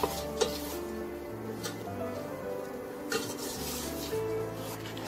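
A utensil stirs roasted gram frying in a pan for a masala pori snack. Steady scraping and clinking against the pan run over a soft sizzle, close up and without speech.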